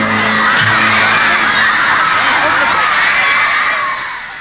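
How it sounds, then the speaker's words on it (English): A huge crowd of Elvis fans screams and cheers in a dense, loud, sustained roar of shrill voices that fills the space and slowly fades toward the end. "fans going wild and screaming"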